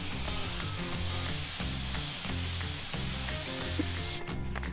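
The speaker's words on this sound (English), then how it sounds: "Get it in the gun. Let's go prime this." A spray gun lays primer over a dent repair on a vehicle panel, a steady close hiss running almost the whole time and cutting off near the end.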